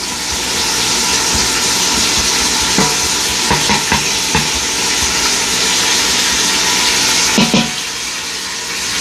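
Onions sautéing in an Instant Pot while being stirred, a steady close sizzle and hiss with a few soft scraping clunks of the utensil against the pot, continuous throughout with no talking.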